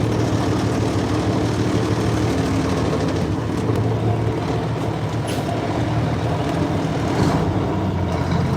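A Mack R600 truck engine runs steadily at a low, rough rumble, loud and close throughout with no talking, its idle not settling back down cleanly.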